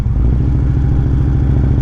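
A motorcycle engine held at a steady, throbbing idle-like pulse through a corner, loud and close with an even rhythmic chug and no voices.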